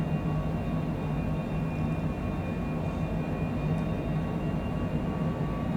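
Steady, loud drone of a light airplane's engine inside the cabin during a short flight from Quonset to Worcester, a continuous hum with propeller tones that holds level throughout, with no talk.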